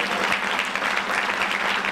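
A congregation claps steadily in thanks to God during a church sermon, a dense, sustained burst of applause filling the room evenly with no voices over it.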